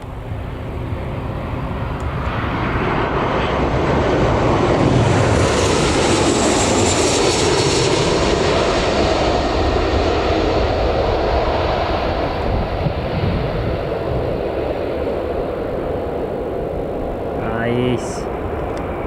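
Jet2 airliner at Newcastle Airport, its jet engines producing a loud, steady broadband roar that swells and holds for the whole stretch, with a faint voice briefly audible near the end.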